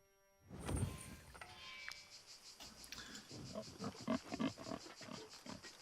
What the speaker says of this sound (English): Sounds like there's more pigs over there.